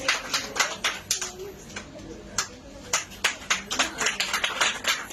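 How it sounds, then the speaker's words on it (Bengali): An audience at a DXN company event claps for a speaker in irregular, fairly close bursts of hand claps, some pausing briefly before picking up again; a faint voice sits underneath. "সবাই জোরে করে হাততালি দিব একটু আপুর জন্য"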